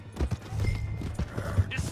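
Horse hooves clip-clop in uneven, close steps in the video game Red Dead Redemption 2, with a brief whinny and some faint background voices.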